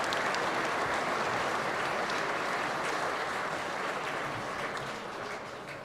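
A crowd applauds handball players after a singles final in an Irish handball championship, a dense, steady clapping that fills the space and fades slightly toward the end.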